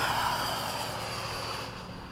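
A model MiG-21 jet plane passing at high speed, a loud steady whooshing engine roar that holds briefly then fades away at the end.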